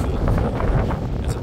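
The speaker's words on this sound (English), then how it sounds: "It's super windy. Got a storm blowing in," Strong wind before a storm buffeting the microphone outdoors, giving a loud, continuous low rumble with gusty surges.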